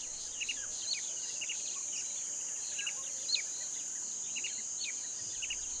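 Cicadas screeching incessantly in hot African bush, a constant shrill drone with scattered bird chirps and tweets over it, fairly distant and even throughout.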